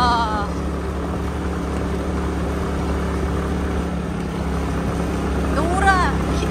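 A motorbike with a broken speedometer climbs a hill on Cat Ba Island in Vietnam, its engine droning steadily under rushing wind noise, with brief voices in the background.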